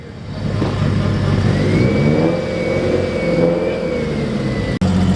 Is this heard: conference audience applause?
no